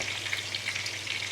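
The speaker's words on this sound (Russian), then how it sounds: "вот так хорошо закипел соус" Orange sauce for duck breast bubbling at a boil in a pan, a steady close sizzle and fizz with no break, with no voices over it.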